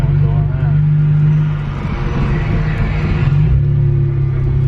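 A static BMW M4 rolls along a pothole-strewn road, its engine giving a steady low rumble with a faint rise and fall as it cruises at an easy pace, heard from inside the car.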